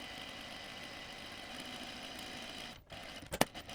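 A sewing machine runs a steady, even whir while stitching a back neck facing with a 1/4 inch seam around its outer edge for a Cashmerette Inman top. The motor stops near the end, followed by a few soft handling clicks.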